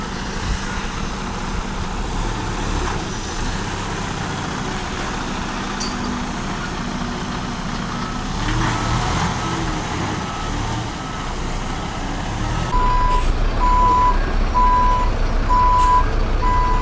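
A truck works on a road while its crew moves an old tram, its engine giving a steady, close rumble throughout; a run of reversing beeps sounds near the end.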